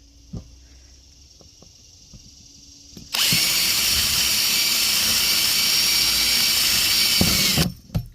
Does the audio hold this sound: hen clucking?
no